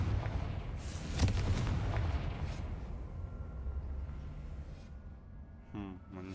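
A Confringo fire spell explosion in Hogwarts Legacy, a loud rumbling boom that swells and slowly fades into a lingering low roar, followed by brief game sounds.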